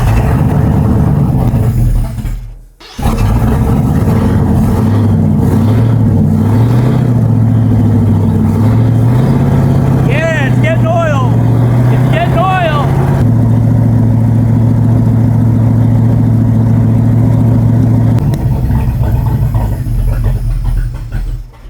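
A car engine with suspected lifter and oil-feed problems runs steadily under diagnosis, a loud, close mid-range hum with a brief dip early on and slight shifts in pitch, and no talking.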